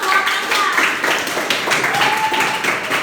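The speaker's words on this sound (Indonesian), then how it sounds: "Tepuk tangan dulu dong." Students in a classroom clap together, a steady patter of many hands under a teacher's voice that keeps talking throughout.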